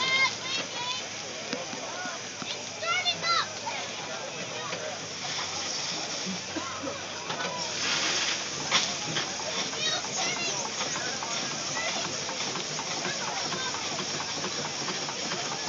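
An old steam engine at a Rollag steam show starts up with a rising hiss and bursts of venting steam, chuffing and splattering close by while people talk over it.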